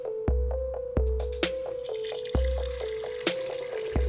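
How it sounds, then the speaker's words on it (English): Water poured into an enema bag drips and splashes in a steady stream, broken by sharp plops and drops at irregular intervals, close and clear with no talking. "we'll pour it in the bag, find out, then pour that water out."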